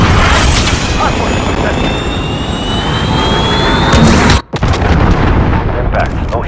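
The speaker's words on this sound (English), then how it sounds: "Cruise missile alert." A cruise missile strikes during Hardpoint gameplay on the Aniyah Palace map in Call of Duty Modern Warfare, a loud roaring blast and rumble filling the scene, briefly cutting out before the din resumes.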